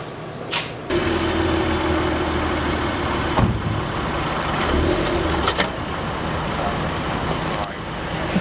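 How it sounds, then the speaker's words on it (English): A car passes by on an outdoor film set: a broad, steady roadway rumble rises after a sharp bump and holds close and fairly loud for several seconds, with faint voices around it. "Car coming."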